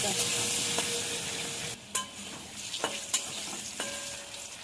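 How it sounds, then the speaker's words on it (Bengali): Potatoes seasoned with salt and turmeric fry in mustard oil in a wok, a constant close sizzle broken by several sharp scrapes and clinks of a spatula stirring, with no voices. "কড়াইতে সর্ষের তেল দেবো। তেলটা গরম হয়ে গেছে, আলুগুলো ভেজে নেব।"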